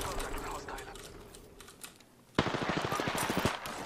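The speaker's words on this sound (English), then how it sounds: "Oh, yeah, they're shooting out of here." Rapid gunfire in the battle royale game Apex Legends erupts abruptly partway through, a dense burst of loud, closely spaced shots following a quieter stretch of game ambience with talk.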